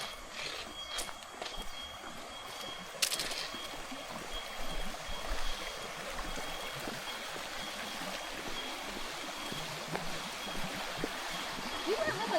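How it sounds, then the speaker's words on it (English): A stream flows near a waterfall in a steady, soft, continuous wash, with occasional footsteps and a sharp knock partway through. "Is this the waterfall?"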